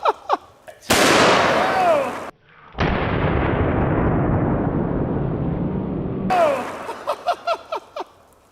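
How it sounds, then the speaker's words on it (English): A .500 Magnum revolver fires at bricks outdoors, two loud close blasts with long roaring decay between them, sharp short pops before and after, and a voice exclaiming. "then we're going to shoot the one on the right with a 500 Magnum"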